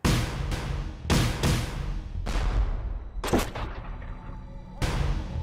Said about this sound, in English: orders him to fire grape right into the mass of struggling men